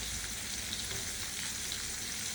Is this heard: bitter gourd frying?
yes